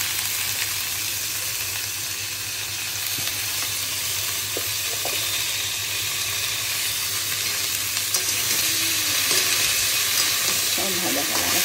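Drumstick and pumpkin stalks fry in a pan for a vegetarian dish, a steady close sizzle with occasional scraping stirs and no talking.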